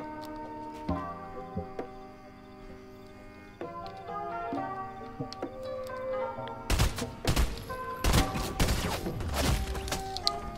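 Gunfire in Fortnite solo play breaks out in the second half as sharp, rapid shots and impacts, loud and close, over steady game music and ambience.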